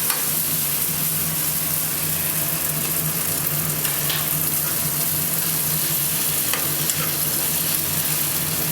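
Pasta being stirred into a gravy in a hot pan gives a steady close sizzle with soft scraping and stirring noises, continuous and even throughout with no talking.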